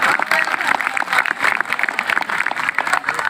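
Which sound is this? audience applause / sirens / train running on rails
audience applause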